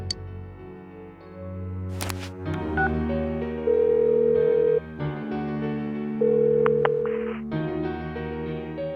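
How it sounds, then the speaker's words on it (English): A phone call rings in the game Persona 4 Golden as a repeating electronic tone sounding in steady pulses over a sustained background music score. "Give her another call."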